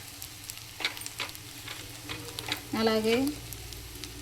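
Egg fry sizzling in a pan after chili powder is stirred in, a steady close frying hiss with a few stirring scrapes and a short voice over it.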